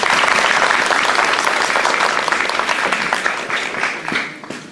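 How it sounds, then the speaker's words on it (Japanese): A big round of applause for contestants at a Nepali speech contest in Tokyo, loud dense clapping from a full audience that sustains and then gradually thins out toward the end. "今一度大きな拍手をお願いします。"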